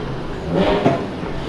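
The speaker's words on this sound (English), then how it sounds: "Is that dude still revving his fucking engine?" A nearby car engine revs briefly, rising to a raspy peak and settling back to a steady idle roar at a gas station.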